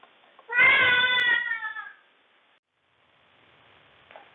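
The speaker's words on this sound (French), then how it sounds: "Merci à mon chat pour cet intermède" A house cat lets out one long, drawn-out meow close by, loud and wavering, followed by quiet room tone.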